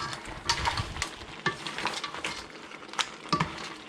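Egg being stirred into chili seafood in a pan: a run of scraping and clinking of a utensil against the metal, with soft sizzling underneath and sharper knocks every second or so.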